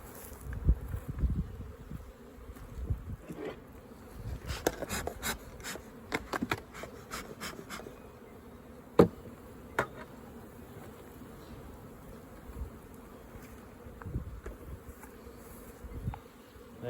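Honey bees buzz steadily around an opened hive during a hive check before adding honey supers, a close continuous drone with sharp clicks and knocks of frames and tools throughout, no talking.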